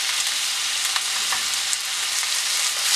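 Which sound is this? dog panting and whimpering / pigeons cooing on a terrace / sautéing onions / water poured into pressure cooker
sautéing onions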